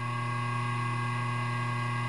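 A 3 horsepower rotary phase converter motor hums steadily and evenly, a close, constant electrical drone with no break or voices.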